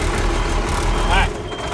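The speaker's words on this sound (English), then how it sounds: "I just got the truck started so we can have it running" A lineman's diesel truck idles low and steady at close range, a continuous broadband rumble with a brief higher tone near the end.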